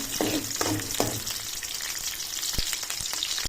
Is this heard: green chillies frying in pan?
yes